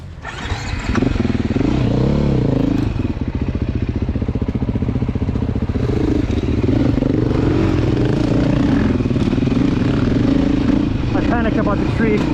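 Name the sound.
dirt bike engine in low gear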